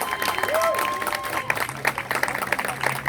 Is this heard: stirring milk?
no